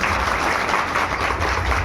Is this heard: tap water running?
no